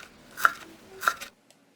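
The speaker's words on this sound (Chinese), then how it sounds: "我们把粉丝切成小段备用" Knife chopping soaked glass noodles into short pieces on a cutting board for shrimp vegetable rolls, two distinct close chops with a short tap after, no talking.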